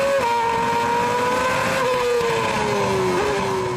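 Lewis Hamilton's Formula 1 race car on a qualifying lap: a loud, sustained high-pitched engine scream holding steady with slight pitch drops as it shifts and slows, heard continuously.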